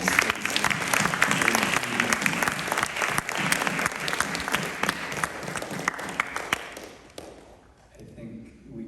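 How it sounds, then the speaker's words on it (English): A crowd gives the New York team a big round of applause, thick sustained clapping that thins and fades out near the end, leaving scattered claps and quiet room sound. "Let's give a big round of applause for the New York team that has been holding this space."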